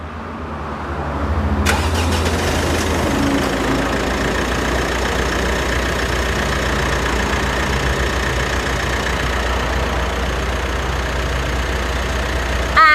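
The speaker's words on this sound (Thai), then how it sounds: "เดี๋ยวเรามาฟังเสียงเครื่องยนต์รถกันเลยค่ะ" A Mitsubishi Triton pickup truck engine cranks and catches, then settles into a steady, even idle that runs on without change for several seconds.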